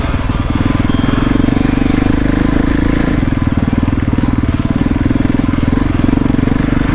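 A motorcycle engine rumbles loudly and steadily up close while riding, with a constant pulsing low drone and wind noise throughout.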